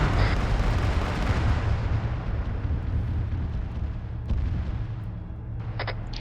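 An explosive charge detonates during a training exercise near a vehicle, giving one loud blast with a long, rolling low rumble that fades over several seconds, followed by faint distant cracks.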